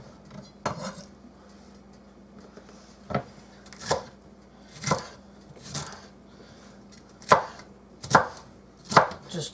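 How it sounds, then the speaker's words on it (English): A knife chopping food into chunks on a board, about a dozen distinct sharp thuds spaced irregularly, close and clear over a quiet low hum, with no one talking. "I'm just going to cut these in chunks like so"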